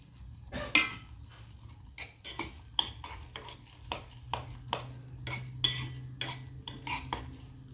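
Semolina being stir-fried in ghee in a pan for a sweet offering, with a spoon scraping and clinking against the metal in a steady series of sharp strokes over a faint background, close up.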